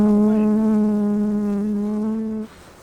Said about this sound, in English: Oh, that's a bee from this hive.